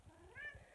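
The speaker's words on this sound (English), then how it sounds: "you may hear my cat meowing in the background" A house cat gives one short, faint meow in the background of a quiet indoor room.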